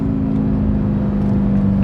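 Straight-piped Audi R8 V8 exhaust holds a loud, steady, resonant drone with a strong low tone, sustained close up with no talk.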